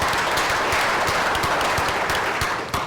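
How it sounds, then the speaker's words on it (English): A steady round of applause fills a women's leadership forum hall, a dense wash of many hands clapping at even loudness for about three seconds. "which I think deserves another round of applause"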